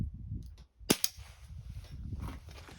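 A Crosman 2289 Drifter pump air rifle, pumped to full power, fires a single sharp, close crack followed by a brief second snap, over low background rumble.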